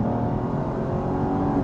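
An older V6 Audi pulls away from an intersection, its engine note a loud, steady, continuous roar from inside the car with no pauses.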